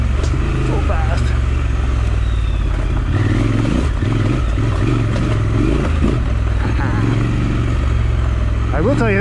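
A naked motorcycle's engine rumbles steadily and surges as it accelerates, with rising revs near the end, loud and close under wind and occasional voices.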